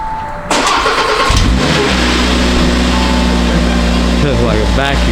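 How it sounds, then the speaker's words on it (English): A 2022 Audi RS3 fitted with an AWE SwitchPath exhaust fires up loudly and close, settles into a deep burbling idle, then blips the throttle in short revs near the end. "we'll get what it sounds like with the AWE tuning exhaust, switch path exhaust"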